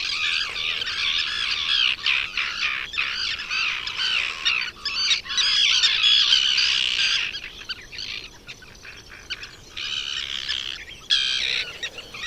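Birds on Île de Ré squawk and chirp in a dense, busy chorus, with many overlapping calls close by and continuing throughout.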